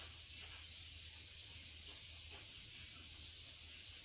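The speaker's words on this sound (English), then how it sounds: "But I use oil. Give it a spray over." Oil is sprayed from a spray bottle onto waterproof water-based abrasive paper while sharpening chisels and a block plane, giving a steady close hiss that runs unbroken for about four seconds.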